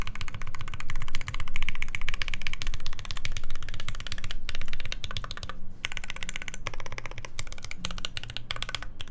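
Rapid, continuous clacking from fingers typing on the edge keys of a mechanical keyboard, close and crisp with a metallic ring, in dense bursts with brief pauses.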